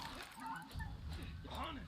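Dog in the video game Far Cry 6 yips and whimpers in short bursts, faint beneath steady game noise and overlapping excited talking in French and Spanish.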